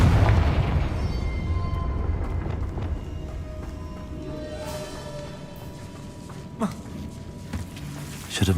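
A Confringo blasting curse explodes in Hogwarts Legacy with a dense, rumbling roar that stays loud throughout. A sharper crack stands out near the end.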